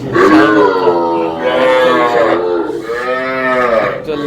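Cattle mooing loudly and close at a busy cattle market selling young bull calves, with several long, drawn-out calls following one another.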